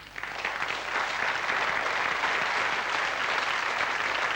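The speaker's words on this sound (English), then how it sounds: "no applause necessary" A studio audience at a 1982 magic show applauds a card trick with continuous, dense clapping that swells in after a brief start and stays loud throughout.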